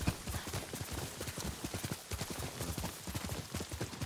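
Quick, rhythmic horse hooves in Ghost of Tsushima clop steadily throughout, a continuous galloping beat with a faint noisy background.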